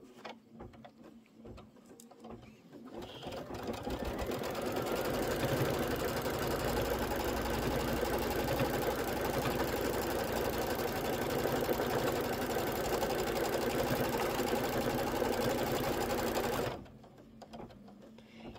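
An embroidery machine stitching an outline on a seasonal table runner, a steady fast mechanical whir and needle chatter running for about fifteen seconds before stopping abruptly.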